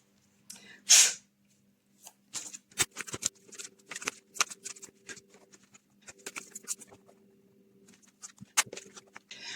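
Tarot cards are shuffled close up in a quiet room, giving soft, irregular riffling and tapping bursts, with one sharper noise near the start.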